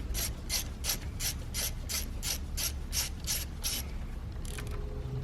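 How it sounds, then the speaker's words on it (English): A ratchet loosens a size 8 bolt on a 2013-2020 Ford Fusion engine during camshaft position actuator work, clicking in a quick, even series of about a dozen sharp pawl ticks close by, then slowing and fading. "So you're going to loosen this bolt here,"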